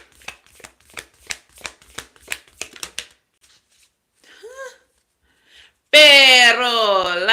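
Oracle cards are shuffled in a quick run of about eight crisp riffling snaps, followed by a brief soft rustle and quiet gap, then a loud voice cuts in at the end.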